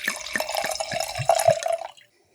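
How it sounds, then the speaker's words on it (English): Sake trickling and splashing from an Edo Kiriko vessel into a glass, a close gurgling pour with small glugs that stops abruptly near the end, with no talk. "We've got two glasses of sake poured."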